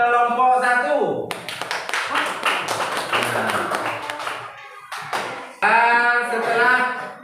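A classroom applauds a student group after their presentation, with scattered, uneven claps and taps in the middle stretch, framed by a person talking before and after.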